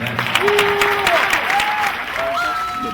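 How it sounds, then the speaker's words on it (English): Outdoor crowd applause at the Rose Bowl Parade, steady clapping with people talking over it and a few whistles. "So give yourselves a round of applause."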